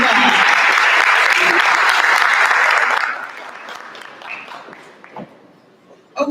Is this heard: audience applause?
yes